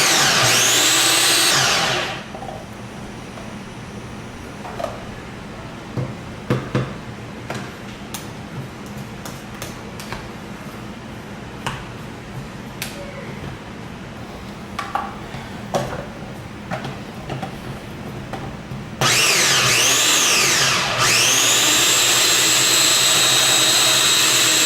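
A small food processor blends vegan ice cream, starting with a loud steady whir for a couple of seconds and then cutting out. Quiet clicks and handling noises follow, and the machine roars back on near the end.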